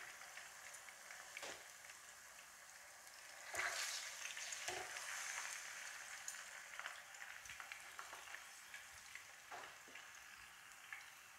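Fish frying in a pan, a steady close sizzle and crackle of hot oil running throughout with occasional sharper pops and a brief louder flare near the start.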